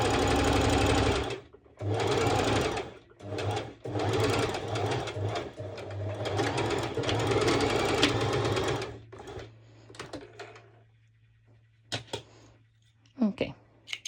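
A sewing machine stitching a cut-out cover-up dress runs in several loud, close bursts of rapid stitching separated by short pauses, then stops and leaves a steady low hum with a few clicks.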